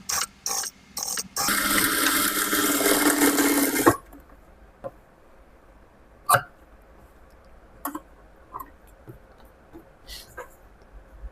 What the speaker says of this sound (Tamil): இப்போ பேக் பீஸை தைக்கலாம்